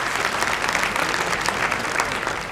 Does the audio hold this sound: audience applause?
yes